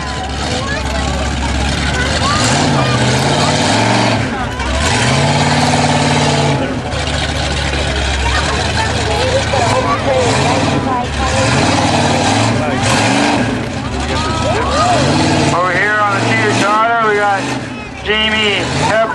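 A 1991 Chevrolet S10 Blazer 4x4 on 39-inch mud tires roars through a mud bog at a fair's tough truck challenge, its engine loud and sustained and rising in bursts, with crowd noise and an announcer's voice over it.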